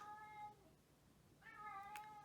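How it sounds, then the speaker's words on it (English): A cat meows twice, with two drawn-out, tonal calls separated by a short pause, heard at moderate distance indoors while it rains outside. "That is Charlie meowing in the background because it is raining."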